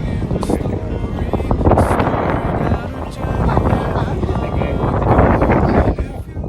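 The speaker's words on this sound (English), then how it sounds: "Very windy and a little chilly." Gusty wind roars steadily into the microphone outdoors at Granite Island, South Australia, with buffeting that swells and eases throughout, near open water.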